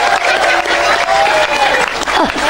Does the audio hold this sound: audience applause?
yes